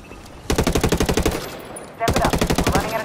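Rapid automatic gunfire in the Tom Clancy Ghost War video game: two loud, close bursts of evenly spaced shots separated by a brief lull, with no talk.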